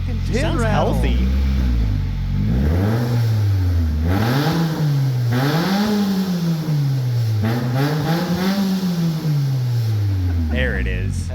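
A car engine revs hard through its exhaust in repeated rising and falling swells, loud and close, with people talking briefly at the start and end.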